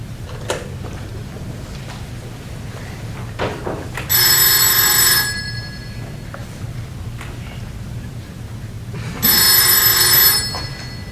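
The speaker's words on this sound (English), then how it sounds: "I won't pick up the phone." A telephone rings onstage during a high school theater production of a stage play, two bright bell-like bursts about five seconds apart over a low room hum, with faint stage noises between.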